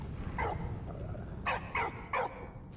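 A dog in the video game Valiant Hearts gives several short, sharp barks in a quick series after one softer yelp, close and clear over a low background hum.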